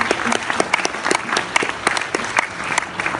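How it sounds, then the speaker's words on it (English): Audience applause fills a film's 50th anniversary event, a dense, steady clapping crowd throughout with no talk over it. "Let's have a round of applause for this."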